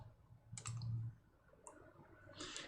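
A few light computer mouse clicks, close and faint, as the Install button is pressed in RStudio.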